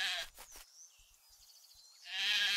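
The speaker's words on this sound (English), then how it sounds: "And catch this sheep." Sheep bleating in the farming video game Craft The World, a couple of short harmonic bleats at the start and another bleat rising at the end, with a quiet pause between them.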